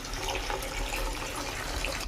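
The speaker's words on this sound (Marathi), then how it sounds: "आपण तिला अर्धा टोप पाणी ठेवायचं भाजीत" Water pouring into a pot of vegetables for cooking, a steady close splashing and gurgling stream lasting the whole short moment.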